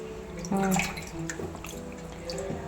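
Cut tuna pieces being washed in a bowl of water for a curry: faint, soft sloshing with scattered drips and trickles, close by.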